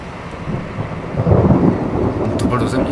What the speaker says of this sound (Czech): To byl do země, čověče. Podle toho hřmění.